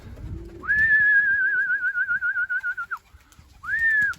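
Young homing pigeons in a loft-roof training session, with a drawn-out, wavering whistle-like call near and loud, a brief break, then a second shorter rising call; no talking.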